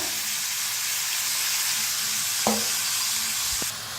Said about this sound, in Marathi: तर छान मिक्स करून भाजून घेऊया.